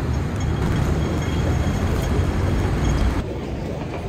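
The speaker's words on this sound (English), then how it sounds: "Alright, I'm heading home on the train." A Hong Kong train carries passengers with a loud, steady rumble of wheels and carriage noise close around, then the roar eases abruptly near the end.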